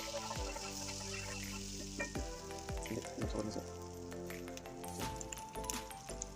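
Food frying in melted butter in a pan for an egg dish, a light crackling sizzle with intermittent pops and clinks, fairly quiet and close, no one speaking.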